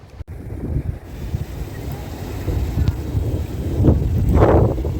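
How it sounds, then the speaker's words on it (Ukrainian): Strong wind at a high-rise residential complex in Kyiv buffets the microphone with a low rumbling roar that swells toward the end. A voice is faintly heard beneath it. "Ой, який дує вітер."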